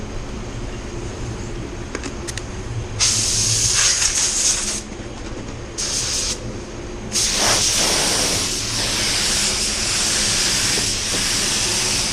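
A spray gun hisses as sealer goes onto a car door, loud bursts of airy spray that start and stop several times, then run long over a steady background hum from the booth.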